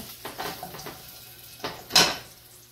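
Metal utensil clatter as pancetta is scooped out of a hot pan for keto carbonara, a few soft scrapes followed by a sharper clink near the end, close by with no talking.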